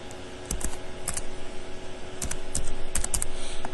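Login details typed on a computer keyboard, with close, crisp key clicks arriving in short irregular bursts over a faint steady hum.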